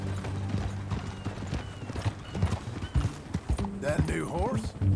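Horse hooves clip-clop steadily in Red Dead Redemption 2, a brisk rhythmic gait under game ambience, with a horse whinnying briefly near the end.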